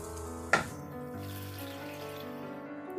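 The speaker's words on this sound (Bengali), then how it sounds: "এবারে আমি এর মধ্যে জল দিয়ে দেব" Water poured into a pan of ghee-coated rice for jeera rice gives a brief splash, then a steady soft trickle and faint bubbling close by, with no talking.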